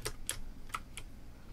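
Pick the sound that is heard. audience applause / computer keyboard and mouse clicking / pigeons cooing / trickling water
computer keyboard and mouse clicking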